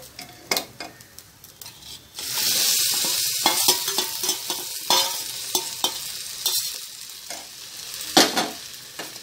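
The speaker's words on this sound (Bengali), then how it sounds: "আমি এরপর এই যে আধা কিলো চিকেন কষিয়ে রেখেছি এটা এখানে এর সাথে দিয়ে দেবো" Rice stir-fries in a pot for chicken biryani, with half a kilo of cooked chicken tipped in. A quiet start gives way to a loud, continuous sizzle, broken by sharp scrapes and clinks of a spatula against the pan.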